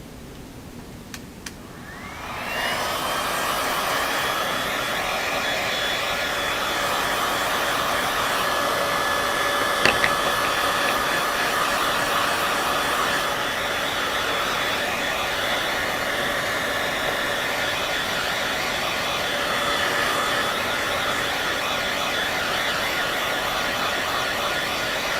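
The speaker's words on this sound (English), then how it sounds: "Grab my hairdryer." A hair dryer switches on after a couple of seconds and runs with a steady, loud whirring hum, unbroken except for a faint click midway.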